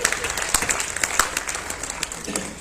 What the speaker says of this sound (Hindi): तालियां वालियां बजाते रहो,